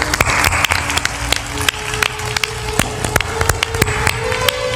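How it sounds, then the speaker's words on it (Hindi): An audience claps to welcome a guest at a spiritual discourse gathering. The steady, moderately loud clapping is dotted with sharp individual claps, with background room noise throughout. "ताली बजा दो, कोई अतिथि आए।"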